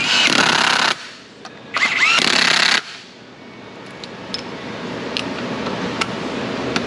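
Impact tool torquing down bolts on a 2007 Dodge Caravan 3.8 with a busted axle, firing two loud hammering bursts close by, followed by quieter shop background with small clinks.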